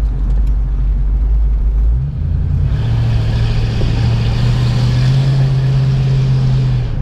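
A 1965 Ford Mustang V8 rumbles loudly and steadily while driving between walls, its deep engine note shifting up slightly after a couple of seconds and holding a constant drone.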